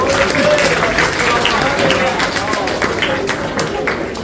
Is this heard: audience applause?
yes